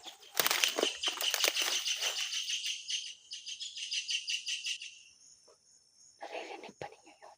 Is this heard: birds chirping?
yes